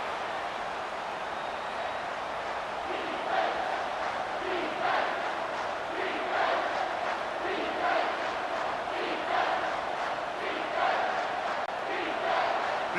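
A stadium crowd cheers and chants at a college football video game matchup between Stanford and Oklahoma State, its roar swelling in rhythmic surges, loud and steady after a quieter start.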